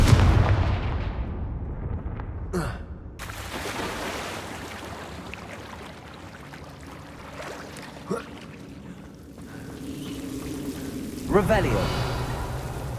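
Confringo spell blasts in the video game Hogwarts Legacy, heard as a few sharp cracking bursts with booming tails over a loud, continuous rumbling background, with the sharpest burst near the end.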